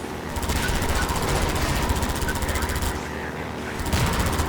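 Sustained rapid machine-gun fire from a boat-mounted gun in Half-Life 2 rattles on almost without pause, loud and dense, with brief dips between long bursts.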